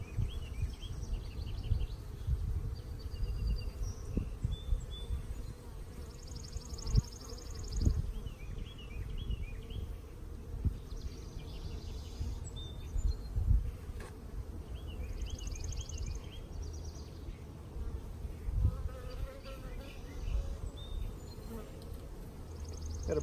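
Honeybees buzzing around open hive frames during a beekeeping split: a continuous close swarm drone with individual bees passing near, plus faint handling knocks and clicks.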